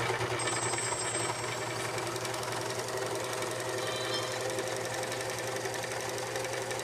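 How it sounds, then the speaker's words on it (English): A serger sewing machine runs continuously while stitching over fabric for a waterproof project, a close, steady, loud mechanical whir and rapid needle chatter with no pause. "Then I serge over where I was, and I leave a tail."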